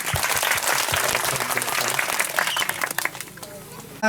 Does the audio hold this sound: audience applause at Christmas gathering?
yes